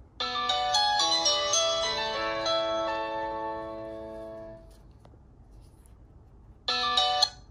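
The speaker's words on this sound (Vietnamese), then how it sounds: "Bây giờ thử vô nghe chuông thử coi." Nokia 6120 mobile phone plays a melodic ringtone of bright, chime-like notes in quick succession, fading out midway, then a short burst of the tune restarts near the end, clear and close with no talking.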